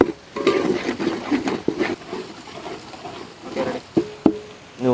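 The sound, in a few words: crushed ginger and garlic frying in pan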